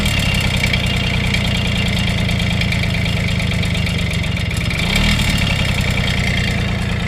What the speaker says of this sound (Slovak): Mám asi nízky voľnobeh.